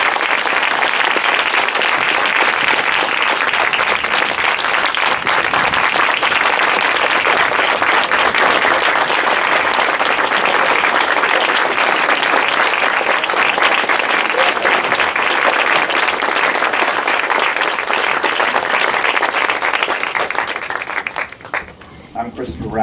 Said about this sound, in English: I don't deserve the applause.